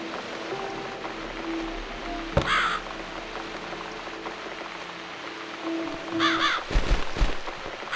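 Crow cawing in The Cat Lady horror adventure game, a few harsh caws arriving in two bursts, one near 2.5 seconds and a louder cluster near the end, over steady rain-like ambience with no talking.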